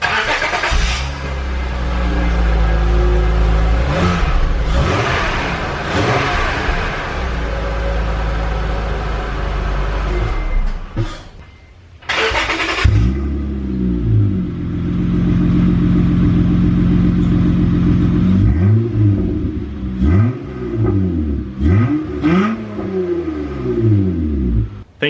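Car exhaust fitted with an exhaust cutout, heard close up in a garage: the engine idles with a loud rumble, cuts out briefly, restarts and is revved repeatedly in rising and falling bursts over a deep throaty idle.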